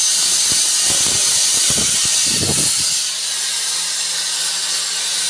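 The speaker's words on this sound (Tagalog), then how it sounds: "Binibilog pala siya ng grinder." A grinder rounds the corners of a wooden speaker box in a steady loud hiss, with scattered scraping bursts for the first few seconds and then a smoother whine.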